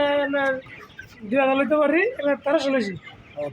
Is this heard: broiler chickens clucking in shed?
yes